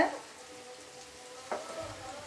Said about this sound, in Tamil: ஒரு பெரிய வெங்காயத்தை பொடியாக நறுக்கி போட்டிருக்கேன்.